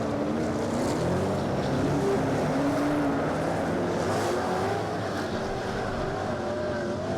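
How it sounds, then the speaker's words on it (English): Powerful 800-horsepower super saloon race car engines rumble continuously with a deep, throaty roar, steady and loud throughout, with faint rising and falling tones layered over the drone. "As we hear those cars rumble, the sound's incredible."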